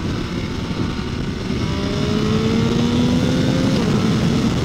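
An MV motorcycle engine runs with a strong, steady drone, its pitch climbing slightly as it builds toward a louder tone, heard alone without talk.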